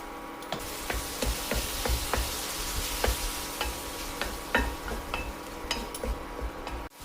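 Kashmiri chili powder and asafoetida are stirred into hot oil for a curry, a steady close sizzle broken by regular clicks and scrapes of a spoon against the pan.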